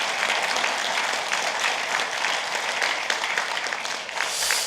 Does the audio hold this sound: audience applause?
yes